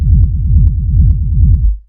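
Dry hard techno rumble bass without reverb, a loud, tight low pulse repeating in a fast even rhythm, each hit choppy and distinct, cutting off abruptly near the end.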